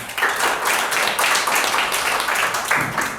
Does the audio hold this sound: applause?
yes